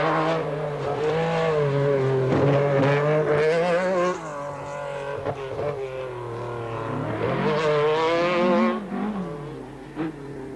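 A Nissan two-wheel-drive rally car at the 1985 Lombard RAC Rally roars loudly and close, its engine note rising and falling in long revving sweeps as it slides through a stage, with brief dips between bursts of throttle.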